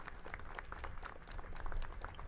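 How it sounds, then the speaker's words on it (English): Applause from attendees at a Los Angeles city council meeting, a steady, moderately faint patter of clapping from a crowd in a large chamber. "So a round of applause to them for being here today."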